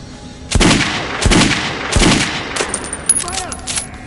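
Gunfire in Metro: Last Light: three loud, sharp shots spaced about a second apart, followed by a quicker scatter of fainter shots, with no talking over them.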